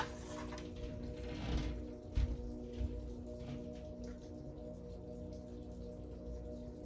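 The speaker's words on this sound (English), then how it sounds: "This rain sounds so beautiful" Soft, continuous rainfall with scattered drops and a few low thumps sits under a steady low hum, fairly quiet throughout.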